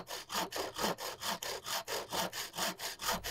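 A lightweight bushcraft frame saw with a non-original tensioning wedge cuts through wood in steady back-and-forth strokes, each pass a rasping burst in a regular rhythm, close and clear with no talk.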